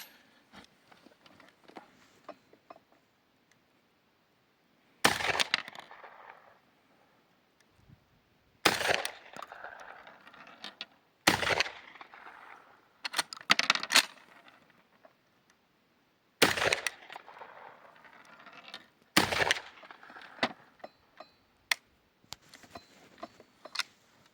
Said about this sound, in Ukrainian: Постріли дуже глухі.